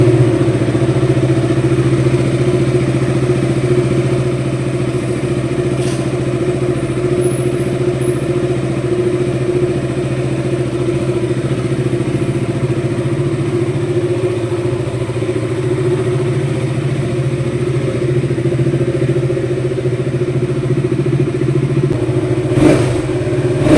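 A motorcycle engine runs at a steady, close idle for a long stretch, with a continuous low throb and faint clatter and a brief sharp click near the end.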